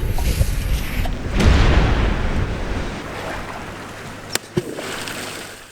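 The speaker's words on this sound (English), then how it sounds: "We've got to fire the Lundy cabbage out of the cannon." A cannon on Lundy Island fires a cabbage with a deep boom followed by a broad rushing decay, then two sharp knocks near the end, outdoors with no talking.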